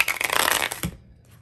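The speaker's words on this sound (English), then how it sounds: "These ones are hard to shuffle." Tarot cards being shuffled by hand, a quick crisp rippling riffle lasting under a second, close and clear, ending in a soft tap.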